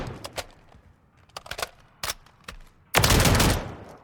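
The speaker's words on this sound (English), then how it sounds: "jump over to our 410 AR shotgun here. In real life, this thing's semi-auto. In game, it's full auto" A 410 AR shotgun in Call of Duty Modern Warfare III, fired full auto in scattered sharp bursts of shots, ending in a louder, denser volley of rapid blasts, with no talk.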